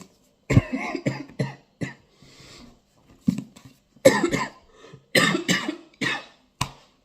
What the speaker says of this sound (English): I told you this cough's awful.